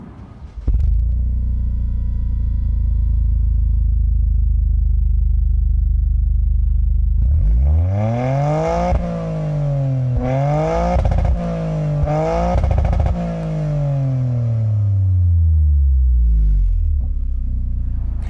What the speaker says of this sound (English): it also has that, nice 3-cylinder burble, which actually it sounds pretty decent